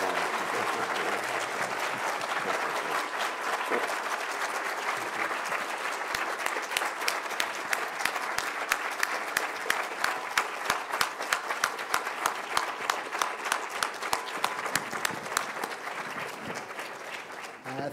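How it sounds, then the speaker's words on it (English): Prolonged applause from an academic audience for speakers after an economics conversation, dense and steady, with individual sharp claps standing out more as it continues, tapering near the end. "big round of applause, please, for our speakers"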